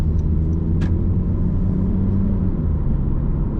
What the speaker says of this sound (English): The cabin noise is relatively quiet, well dampened, unless you put your foot down with the CVT.